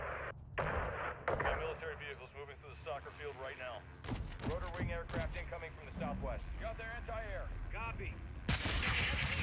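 Gunfire rings out in Call of Duty Modern Warfare 2, several sharp loud cracks and bursts scattered through the clip, mixed with game dialogue and someone talking over it.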